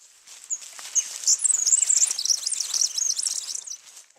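A wren sings a high, warbled trill at dawn, a rapid run of bright chirping notes lasting several seconds, close and clear over a quiet background.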